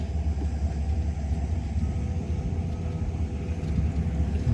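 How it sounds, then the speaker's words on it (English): A water truck rolls past on a street near the University of Regina, a steady loud low engine rumble and tire roar holding close throughout with no talk. "now this water truck is going the other direction"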